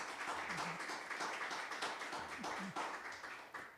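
An audience claps for panelists at a community conversation event, a sparse, moderately faint patter of hands that continues steadily, with faint voices beneath it.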